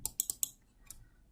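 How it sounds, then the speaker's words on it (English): Several quick keystrokes on a computer keyboard, close and fairly quiet, four sharp clicks in fast succession followed by a lone softer click after a short pause. "So for that I'm typing"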